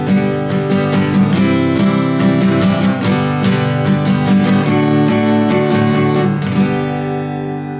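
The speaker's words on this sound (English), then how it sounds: "you'll probably find for every up and down stroke you hit all 6 strings throughout that strumming pattern, and it'll sound something like this" Acoustic guitar strummed in a steady up-and-down pattern for a song, every stroke hitting all six strings; bright, full chords ring continuously and loudly with even rhythmic attacks and no talking.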